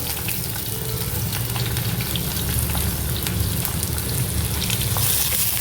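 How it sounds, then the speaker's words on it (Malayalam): Loud, continuous close-up sizzling as half a cup of chopped shallots sautés in hot oil with fenugreek for a Kerala-style prawn mango curry, with occasional stirring and no talking. "അതൊന്ന് ഒത്തിരി ബ്രൗൺ ആക്കണ്ട, എന്നാൽ അത് നന്നായിട്ട് വഴലണം"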